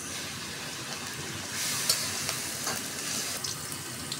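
Onion, garlic and chilli fry in a pan for a bitter gourd dish, giving a steady close sizzle with soft stirring scrapes and brief brighter crackles, no voices.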